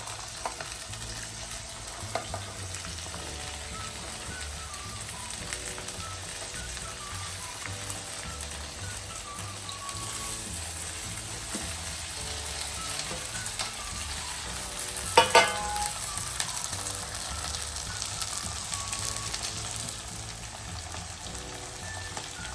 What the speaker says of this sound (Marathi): ते आपल्याला आता हुरडा भाजून घ्यायचा आहे, नंतर आपण ही पूर्ण भाज्या टाकून घेऊया।